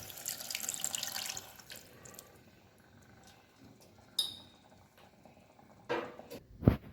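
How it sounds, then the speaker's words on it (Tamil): Tamarind water splashes into a pan of curry leaf kuzhambu, a busy pouring sound at first that fades to quiet, followed by a few sharp utensil clinks and knocks. "இதில் கொஞ்சம் புளி தண்ணி ஆட் பண்ணிக்கிறேன்."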